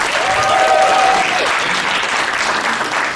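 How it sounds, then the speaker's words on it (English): Loud, sustained applause from a stand-up comedy audience, many hands clapping evenly throughout, with a brief whoop or cheer rising early on and no speech. "One more big round of applause"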